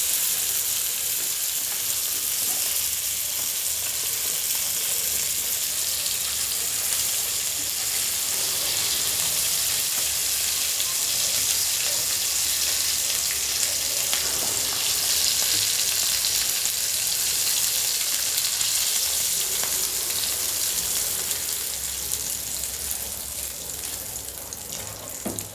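Surmai kingfish and bangda mackerel fry in a pan with a loud, constant hiss and crackle of hot oil that holds steady throughout and only eases slightly at the finish.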